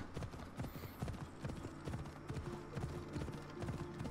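Horse hooves clip-clop steadily in Assassin's Creed Odyssey as the mount travels, a close, rhythmic run of quick beats over constant game ambience and music.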